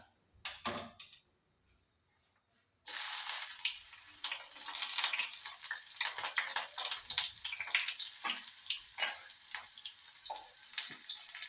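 Onions dropped into hot oil with mustard seeds set off a brief clatter, a short quiet gap, then a sudden loud sizzle that keeps hissing steadily with crackles and spatters close by.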